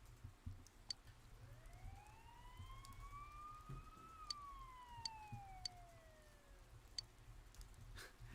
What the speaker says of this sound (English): After hearing sirens, you decided to head to school.